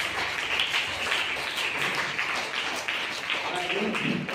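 Audience applause for a chief guest at a children's dance school event, a steady broad wash of clapping that runs throughout, with voices mixed in.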